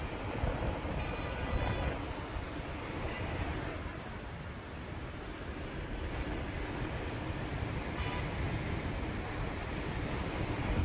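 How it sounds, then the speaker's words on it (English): Massive floodwaters surge through streets and around vehicles in a natural disaster, a loud, steady roar of rushing water that holds its level throughout with no voices. "More floodwaters, and the relentless pressure of the water."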